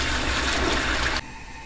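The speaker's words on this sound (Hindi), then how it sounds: "2 किलो चावल थे तो तकरीबन जो है 4 किलो पानी डाल देंगे।" Water pours in a steady loud rush into a large pot of rice and spiced potatoes for dhaba-style Lahori aloo biryani, then cuts off abruptly near the end, leaving a quieter background.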